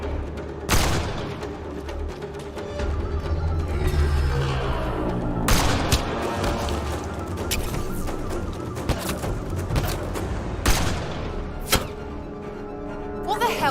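Gunfire in the sci-fi shooter video game Mass Effect: Andromeda, with a few sharp, loud shots scattered across a dense, rumbling battle soundscape full of thumps and background game noise.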